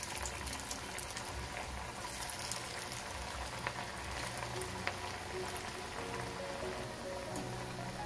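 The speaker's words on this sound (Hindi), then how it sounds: "इधर मैंने एक कढ़ाई में तेल को गरम कर लिया है। अब इसमें कोफ्ता को डालकर फ्राई" Jackfruit kofta frying in hot oil in a kadai, giving a steady, dense crackle and sizzle close by that holds evenly throughout with no voices.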